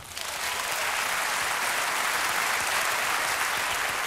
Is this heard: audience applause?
yes